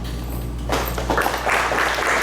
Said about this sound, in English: Give a big round of applause for them.